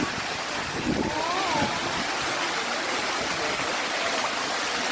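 Falling water from a man-made cascade at Iceland's Blue Lagoon makes a steady hissing rush, while someone speaks briefly over it near the start.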